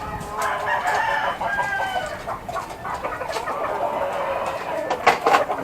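Chickens in a small rooftop coop: hens clucking in repeated short calls close by, with a rooster-like crow and busy poultry chatter over a steady background hum.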